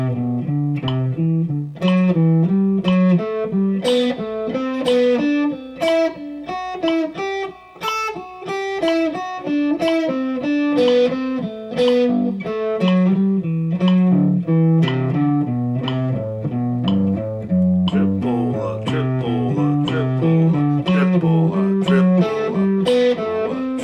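An electric guitar with distortion plays thirds in triplets, a steady run of quick, evenly rhythmic plucked notes climbing and descending, heard up close with no talking.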